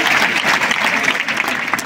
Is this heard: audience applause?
yes